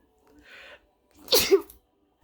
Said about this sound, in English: I sneezed like 3 times and forgot what I was saying.